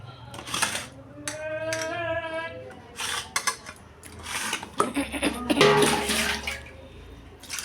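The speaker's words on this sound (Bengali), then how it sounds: "ভালো করে একটু জল দিয়ে ভালো করে ধুয়ে নেব।" Fish is rinsed under running tap water, with splashing and water flow rising and falling in bursts at close range, while a voice is heard at times.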